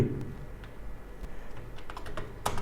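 Computer keyboard typing while working in Excel, with clusters of close, clear key clicks over low background hum and a sharper tap near the end.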